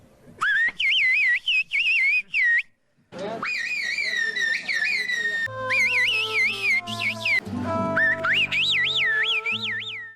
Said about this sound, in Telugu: వాళ్ళక్కడ మనం మాట్లాడినట్టు మామూలుగా నోటితో మాట్లాడి కమ్యూనికేట్ చేయరు, విజిల్ వేసి కమ్యూనికేట్ చేస్తారు.